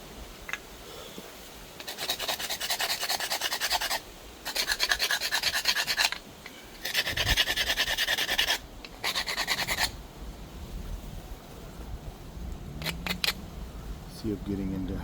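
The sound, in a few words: antler pressure flaking obsidian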